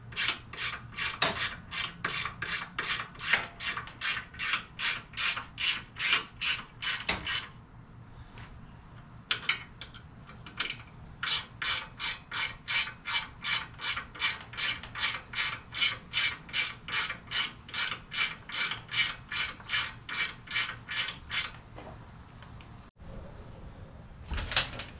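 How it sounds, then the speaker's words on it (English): A quarter-inch drive ratchet with a half-inch socket and swivel tightens the exhaust bolts on a 2016 Harley-Davidson Softail, rapid close clicking strokes in long runs with a brief pause between, no voices. "Now you can get up in here with your quarter-inch drive, half-inch socket, and your swivel. Tighten each one of those up."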